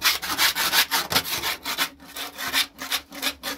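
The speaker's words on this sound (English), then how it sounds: "You make sure you scrape everything out." A scraper drags back and forth across the floor of a grasscutter cage in quick rhythmic rasping strokes, about three per second, close and steady, with no voices.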